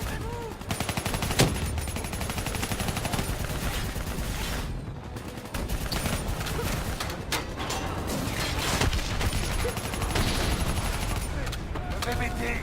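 Call of Duty Black Ops 3 campaign firefight with dense, rapid bursts of automatic gunfire and heavy mechanical clatter, loud and continuous with a brief lull midway, voices speaking among the shots.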